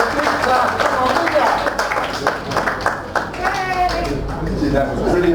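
An audience at a rabbis' talk claps and cheers loudly, with steady applause mixed with shouts and voices, people talking and whooping throughout.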